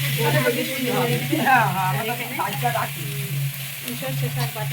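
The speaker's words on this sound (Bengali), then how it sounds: "দিদিভাই এখানে দিদিভাই রান্না করছে" Vegetables fry and sizzle in a pan during cooking at a Gour Nitai festival kitchen, a continuous crackle running beneath nearby chatter and a steady low hum.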